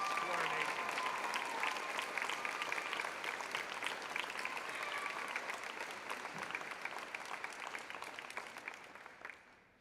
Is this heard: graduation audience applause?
yes